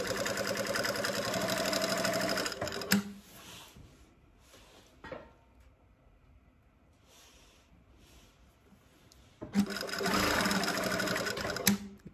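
Sewing machine stitching a zipper into a cushion panel, running in two steady bursts of rapid mechanical chatter at the start and end, with a quieter pause in between.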